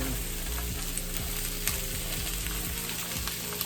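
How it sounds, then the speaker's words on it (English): Onions and mushrooms sauté in a pan with a steady, close sizzle and crackle, and faint stirring scrapes come through without any talking. "You want to cook onions and mushrooms first so they can wilt a little bit."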